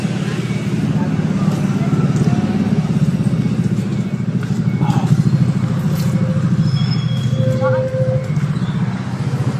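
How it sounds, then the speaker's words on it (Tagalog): A motorcycle engine runs steadily nearby on a street in Calamba, Laguna, a continuous low rumble through the whole stretch, with voices talking over it. "Motor."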